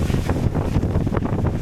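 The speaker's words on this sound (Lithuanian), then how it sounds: "Vėjas pučia" Wind gusting outdoors on a long road trip home from northern Norway, a loud, steady rushing buffet across the microphone with no voices.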